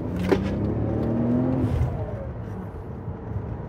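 A Mercedes CL65 AMG V12 runs at wide open throttle with a steady, rising engine drone heard from inside the car. Faint voices sound briefly over it.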